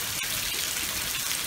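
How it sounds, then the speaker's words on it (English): Steady rain falls during a Texas tornado-warning storm, a dense, even hiss of drops heard from indoors throughout, with no voices. "It sure is raining."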